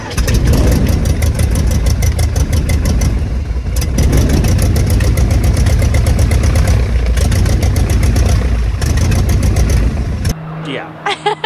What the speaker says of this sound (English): started the engine, not good